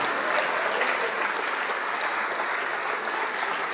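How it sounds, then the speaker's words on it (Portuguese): A church congregation applauds at a sermon on the resurrection, a steady even wash of many hands clapping at moderate distance, unbroken for the whole stretch. "Vamos aplaudir mais"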